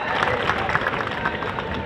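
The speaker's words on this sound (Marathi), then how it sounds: "एकदा संग्राम भैयासाठी जोरदार टाळ्या वाजून आपण त्यांना मनापासून धन्यवाद देऊयात" A crowd applauds at a Maharashtra Kesari wrestling competition in Ahilyanagar. The clapping forms a steady, dense wash of sound that lasts throughout the short clip.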